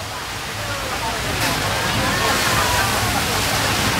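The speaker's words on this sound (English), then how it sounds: "Don't worry about all that water." Rushing floodwater on a flooding-street theme park ride surges in a loud, continuous wash of broadband sloshing and roaring, close and steady throughout.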